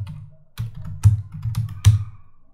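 Short burst of computer keyboard typing entering a chart layout name: a handful of distinct, close key taps in an uneven rhythm, clear and alone with no talking.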